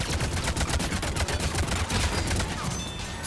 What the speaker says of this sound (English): Oh, there's a turret. Let's blow it up.